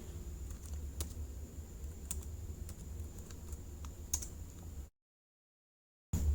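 Typing on a computer keyboard while entering dates into an Excel stock spreadsheet, steady close clicking keystrokes with a few sharper taps, then a sudden cut to silence.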